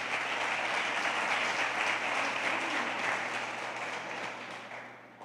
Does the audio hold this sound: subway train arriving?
no